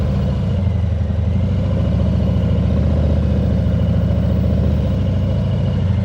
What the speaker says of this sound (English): be comfortable starting and stopping like this, using your clutch and brake